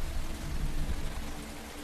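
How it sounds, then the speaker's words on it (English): Heavy tropical monsoon rain falls in a north coast forest, a dense, steady hiss and patter of downpour that fades slightly over a couple of seconds, with no voices. "tropical monsoons that sweep along the far north coast, bringing torrential rain."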